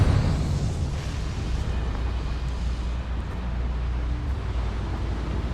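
A Confringo fire spell in Hogwarts Legacy lands as a broad, rumbling explosion, loud at first and then lingering as a steady roaring wash with no talk.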